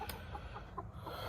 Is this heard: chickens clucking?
yes